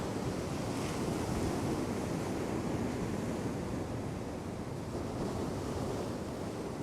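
Sea waves break on the shore at Shoreham in a steady, dense wash of surf, close and continuous with slight swells, wind brushing the microphone and no voices.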